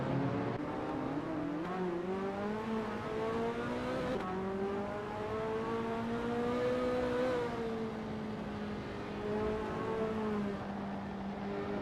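Ferrari F40 race cars racing at Sonoma in a racing video game, a loud sustained engine note rising and falling through the gears as the cars accelerate and shift, with no talk.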